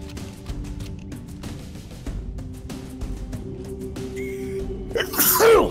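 A single sharp human sneeze bursts out near the end, loud and close over a quiet background during a Halo: Combat Evolved gaming session.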